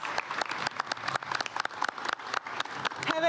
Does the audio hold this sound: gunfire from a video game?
no